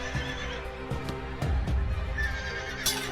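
A horse whinnies loudly and close in a rescue scene, with a brief clip-clop of hooves, and there is no talk.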